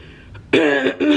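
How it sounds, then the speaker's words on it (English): A single sharp throaty cough, close and loud, followed by a second short cough burst. "I just had a big, huge coughing spell."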